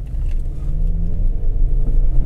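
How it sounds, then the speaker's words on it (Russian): A Subaru Forester tS with STI turbo tuning is floored from a standstill, wheels spinning, giving a loud, steady low engine roar and rumble that builds without a break. "Машина буксует. Ее носит просто по сторонам."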